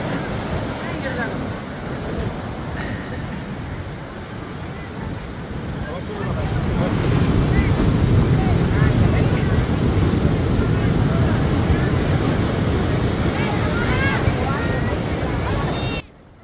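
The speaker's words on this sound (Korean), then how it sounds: "넘실대는 파도의 황홀한 바다" Ocean surf rolls ashore beside a Bali sea temple, a loud continuous wash of breaking waves that grows fuller and heavier partway through, with wind blowing across the microphone.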